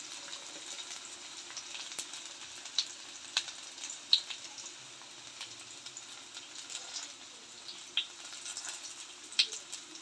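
Garlic fries in oil for a green sardine curry with kanthari chilies, a faint continuous sizzle dotted with small sharp pops and spits, quiet and without speech.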